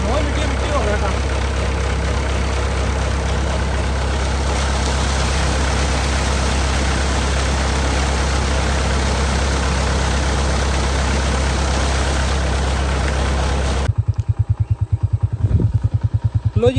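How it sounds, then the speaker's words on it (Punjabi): A rain-soaked motorcycle engine idles loudly and steadily with a low, throbbing rumble and some clatter, then cuts to a rougher, pulsing run near the end. "ਇਹ ਸ਼ਾਰਟ ਹੋ ਗਿਆ ਤਾਂ ਮੋਟਰਸਾਈਕਲ ਹੋਇਆ ਨਹੀਂ ਬੰਦ"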